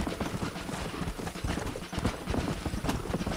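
Horses gallop in the Western video game Red Dead Redemption, a dense, fast rush of hoofbeats under continuous noise, moderately loud and steady throughout with no talk.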